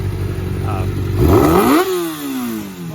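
A racing motorcycle engine, newly built and firing on only three of its cylinders, revs up sharply then drops back, loud and close, with people talking over it.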